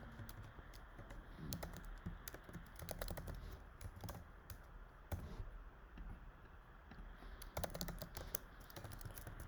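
An email and password are typed on a computer keyboard in quick, irregular bursts of close, faint key clicks with short pauses between runs.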